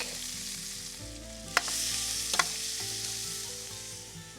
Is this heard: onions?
yes